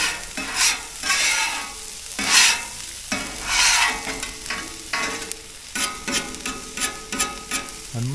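Potatoes fry on a Traeger Flatrock griddle with a steady, close sizzle, broken by scraping and stirring bursts from a spatula at irregular intervals.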